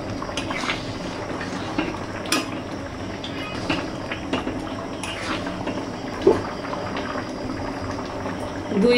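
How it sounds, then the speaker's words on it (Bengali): A pot of ghugni simmers at a steady rolling boil, with continuous bubbling and occasional louder pops and clinks close by. "ঘুগনি ফুটে উঠেছে, এরকম অবস্থায় আমি খাসির চর্বিগুলো দিয়ে দেবো"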